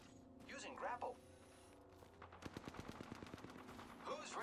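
Gunfire in the video game Apex Legends: a rapid burst of evenly spaced automatic shots cracks out midway, between stretches of character voice lines and game sounds.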